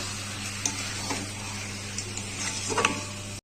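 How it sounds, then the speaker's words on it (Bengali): Chicken stir-fried in a pan, a low sizzle under scraping and clinking spatula strokes against metal, sparse and close, no voices. "এবারে কষে নেবো মাংসটাকে"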